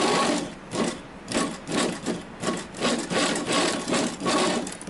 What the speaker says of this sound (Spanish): Y cosemos en todo el orillito. Siempre aguja abajo.